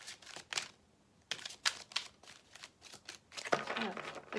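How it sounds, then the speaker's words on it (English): Wisdom of the Oracle oracle cards are shuffled in short, quiet bursts of riffling and slapping, separated by brief pauses, close and faint. "These cards are a little more difficult to shuffle."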